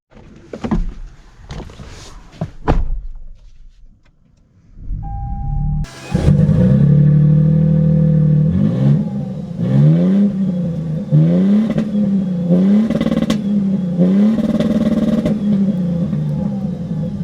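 A 2023 Toyota Sequoia TRD Pro's engine starts after a few door and cabin clunks, then settles into a loud, close, steady drone with repeated rising revs as it drives off, and no talking.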